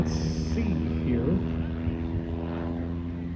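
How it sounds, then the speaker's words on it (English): A yellow propeller airplane passes low overhead at an air show with a steady droning engine and propeller hum that swells and fades slightly, while people talk nearby over it. "He's landing. Yellow airplane."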